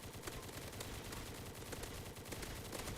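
Automated turrets in the Zombie Rush Survival video game fire rapid, continuous gunfire at bosses, a dense rattling barrage of overlapping shots without pause, heard faintly in the game mix.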